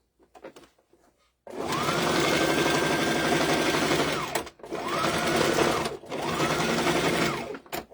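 A sewing machine stitches a seam on a rifle bag in a sewing shop, a loud, close, rapid mechanical whir running steadily for a few seconds, then two shorter bursts separated by brief stops.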